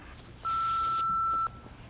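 One steady electronic answering machine beep lasting about a second, clear and alone over faint background hiss.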